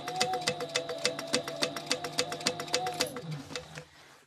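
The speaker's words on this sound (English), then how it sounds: "we're just going to sew all the way around" A sewing machine stitches fabric in a steady, fast run of rhythmic needle clicks over a whirring motor, close and clear, then slows and stops near the end.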